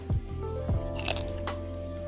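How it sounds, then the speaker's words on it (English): Two crunchy bites into a crisp apple, then a brief crackle of chewing, close to the microphone over a low background hum. "I hope you heard the crunch."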